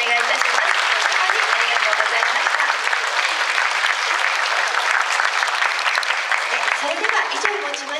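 Dense, loud applause from a crowd at a music festival fills the clip after an elementary school choir performance, steady throughout with no break.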